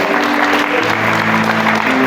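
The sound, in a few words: church congregation applauding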